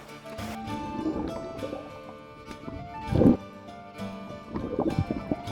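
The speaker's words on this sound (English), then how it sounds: "there is a bit of a kind of an underwater bubbling, underwater tone" Low underwater bubbling ambience from a flooded tabletop map scene below water level, a soft murky wash with faint liquid gurgles and a couple of louder bubbling swells, no voices.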